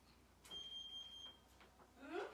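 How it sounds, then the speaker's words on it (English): A single high-pitched electronic oven timer beep lasting about a second, fairly faint and distant, amid quiet room noise and some brief voice fragments. "The oven's beeping."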